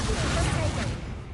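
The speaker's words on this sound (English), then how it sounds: "There goes Incendio!" An Incendio fire spell cast in Hogwarts Legacy bursts out as a loud, dense rush of crackling blasts that fades over about a second, with a voice calling out over it.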